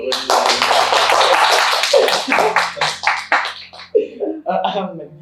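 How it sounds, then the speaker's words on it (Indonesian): Hand clapping from a small group in an Indonesian school podcast studio honoring SMK Wisuda Karya's mentor, a dense burst of claps that thins into scattered taps, with talk mixed in. "tepuk tangan dulu"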